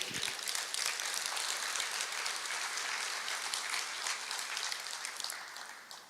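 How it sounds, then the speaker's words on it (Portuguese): A church congregation applauds during a sermon, a steady wash of many hands clapping at moderate distance that thins and fades toward the end, with no talking over it. "Pode aplaudir."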